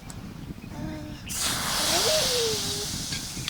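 Water splashed into a hot pan for a Bengali chocolate-biscuit pudding sets off a sudden loud hiss that swells and holds, a steady steamy sizzle dying back after a few seconds.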